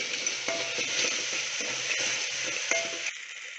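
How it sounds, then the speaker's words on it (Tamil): Tomato sautéing in a pan for potato sambar gives a steady close sizzle with a few scraping stir strokes, alone and without voices. "இப்போ தக்காளி நல்லா வதங்கிடுச்சு பாருங்கள்."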